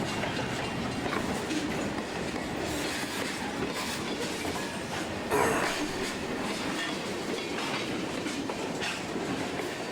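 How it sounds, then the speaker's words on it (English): A train on the Rockford line rolls steadily past through Belvidere, with continuous rumbling and rhythmic clickety-clack of wheels on rails, loud and close throughout, no voices. "IM train going to Rockford on the Rockford line, which is kind of a lightly attended line."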